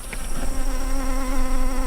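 Honey bees buzz around a row of about sixty hives holding millions of bees, a dense continuous drone close by with steady pitch, no voices.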